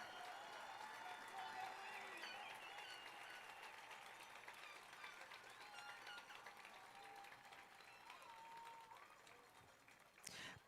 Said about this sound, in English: Can we have one more round of applause for the graduating class of Douglas